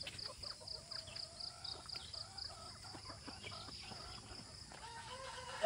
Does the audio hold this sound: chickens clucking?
yes